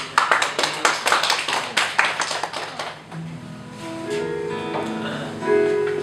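A church congregation at a Wednesday worship service claps in praise to God, a burst of sharp, closely spaced claps that thins out after about three seconds, giving way to sustained organ or keyboard tones.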